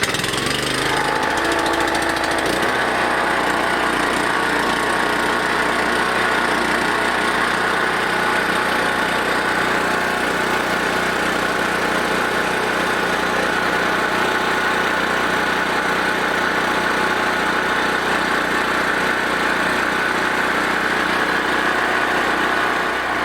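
Small engine fitted with Tron fuel additive runs steadily after starting, a loud continuous mid-pitched drone that stays even and close throughout after a brief rougher start.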